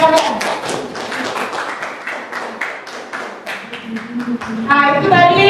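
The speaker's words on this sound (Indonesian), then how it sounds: "Beri aplaus untuk teman-teman" Classmates clap for a student group after a school physics presentation in a classroom, a dense burst of many hands lasting several seconds, with voices mixed in and speech rising near the end.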